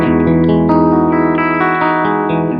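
Guitar with an effects unit, distorted and chorused tone, plays a fill-out picking pattern over a held chord, steady sustained strings ringing with reverb, close and loud, no talk.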